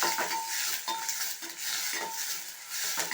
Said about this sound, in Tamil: கடுகு பொரிஞ்சிச்சு ஆனியன் நல்லா வதங்கட்டும்